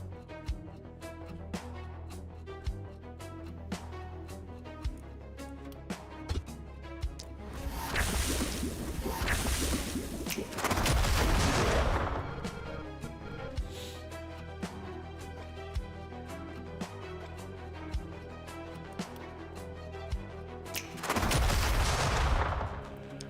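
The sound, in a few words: cannon fire in video game The Last Spell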